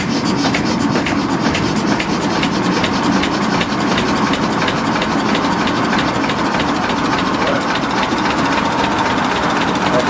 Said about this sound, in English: this is a water-cooled diesel run, 1937 Lister diesel engine